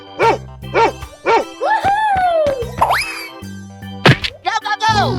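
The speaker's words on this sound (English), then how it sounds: "Dog." A dog in a 3D animal sliding game lets out a string of quick, bright barks and yips amid boing effects and sliding cartoon tones, loud and near.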